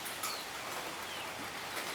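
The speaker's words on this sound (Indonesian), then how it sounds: "Dan ini juga pagi-pagi sudah hujan." Steady morning rain falls as an even, continuous hiss of drops on surfaces, moderately loud and unbroken, with no voices over it.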